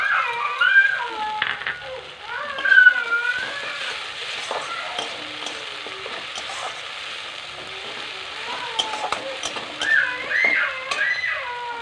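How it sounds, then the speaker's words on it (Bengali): Masala with ginger, garlic and green chili paste frying in a pan for a sea fish curry, a steady bright sizzle running throughout with occasional scraping stirs and a faint whistle-like tone riding over it. "মশলাটা ভালো করে নেড়ে চেড়ে ভেজে নিয়ে কষিয়ে নিয়েছি"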